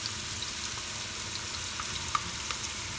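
Chopped fresh ginger and garlic sizzle in hot oil in a pan, a steady quiet crackle with a few sharp pops and occasional stirring.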